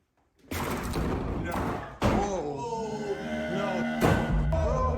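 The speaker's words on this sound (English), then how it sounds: "That sounded like a straight door slammed." Sharp heavy thuds like doors slamming, one near the start and another a few seconds later, with excited voices talking throughout.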